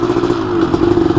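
A 250R motorcycle engine drones loud and close for a brief moment, holding a steady buzzing pitch under acceleration.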